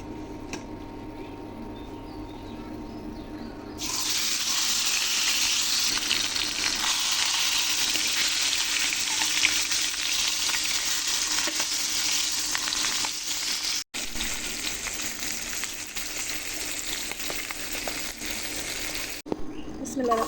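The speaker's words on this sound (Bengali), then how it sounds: "তার জন্য আমি মাছটাকে একটু ভেজে নিতেছি" Rohu fish fries in hot oil in a wok, a loud steady sizzle that starts suddenly and runs on continuously, with a brief break near the middle.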